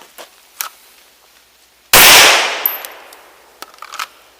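A single sharp report from a Smith & Wesson M&P 2.0 pistol with a 5-inch barrel at an outdoor range, loud and close, ringing out over a second or so, with faint clicks and handling noises before and after.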